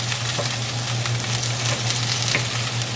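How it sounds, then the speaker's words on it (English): Onions and peppers sizzle and crackle in a hot frying pan, a constant close frying hiss with scattered pops. "the onions and the peppers to the frying pan"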